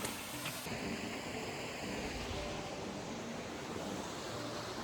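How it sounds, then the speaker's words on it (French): Steady broadband rush of a waterfall on a mountain trail in Corsica's GR20, a continuous close wash of falling water with no pauses, filling the whole stretch at even loudness. "Belle cascade."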